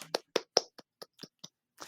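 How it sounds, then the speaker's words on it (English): A few sharp, separate hand claps for Jack on a show, about nine dry slaps spread unevenly over two seconds, close-miked in a quiet room with silence between them. "Everybody, round of applause for Jack."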